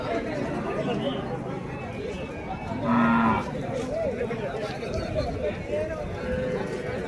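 Cattle mooing at a busy bull market in Vaniyambadi, a single distinct low moo amid the steady murmur of a crowd with people talking throughout.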